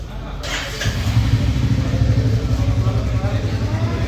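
A Royal Enfield motorcycle engine fires up after a brief moment, then settles into a steady, loud, thumping idle that runs on continuously nearby.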